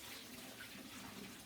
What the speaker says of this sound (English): So I'm going to empty out the water in this,